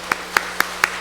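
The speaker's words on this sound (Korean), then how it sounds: "우리 석소망 지휘자님 다시 한번 박수로 축복합니다" A church congregation claps for the choir conductor during a worship service: four sharp, evenly spaced claps ring out, crisp and fairly close, with no talking.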